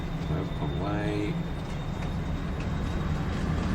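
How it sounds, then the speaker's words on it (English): A freight train in the video game Farming Simulator 22, heard as a steady low rumble and rolling drone that carries throughout, with a voice speaking briefly over the start. "We need to grab that train and grab the freight thingy-majig."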